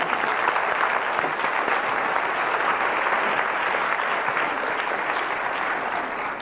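An audience at a flash-talk session on education and sustainability applauds its panelists with a full, steady roar of many hands clapping, loud and unbroken, tapering a little at the close.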